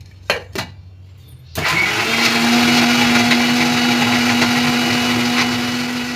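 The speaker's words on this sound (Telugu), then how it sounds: "పైనాపిల్ పీసెస్ని మిక్సీ జార్లో వేసి స్వీట్కి సరిపడా బెల్లము, 2 టీ స్పూన్ల స్వీట్ కార్న్ పిండి, కొన్ని నీళ్లు వేసి మిక్స్ అయితే పట్టుకుందాం" A kitchen mixer grinder blends pineapple pieces with jaggery, sweet corn flour and water for a sweet dish, starting abruptly after two clicks and then whirring loudly and steadily at high speed up close.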